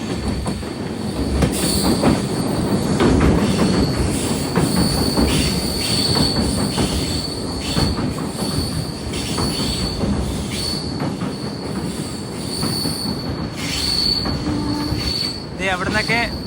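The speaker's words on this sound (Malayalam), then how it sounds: "അവിടെ നിന്നൊക്കെ ട്രെയിൻ പോകുന്ന ഒരു കാഴ്ച" A train crossing Pamban bridge, the vertical lift bridge, with loud sustained wheel squeal and rumbling clatter of passing carriages, continuous and close throughout the clip.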